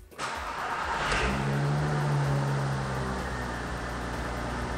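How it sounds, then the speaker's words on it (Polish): A Seat Leon Cup Racing with a 2.8 VR6 engine and 4x4 runs inside a closed garage, giving a loud, steady engine drone that holds through the clip with no voices. "Bo odpaliłem samochód w zamkniętym garażu."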